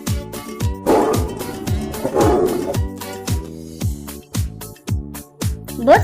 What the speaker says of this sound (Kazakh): Жолбарыс.